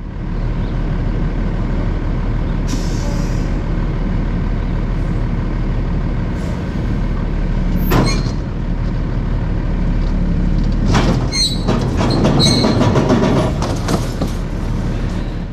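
A roll-off truck's diesel engine drones loud and steady while its bed tilts to unload a trailer on rollers, with occasional hissing air bursts and clanking metallic rattles near the end.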